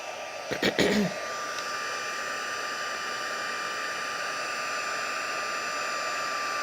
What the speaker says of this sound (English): I'm going to heat up my heat tool, and we're going to heat that up.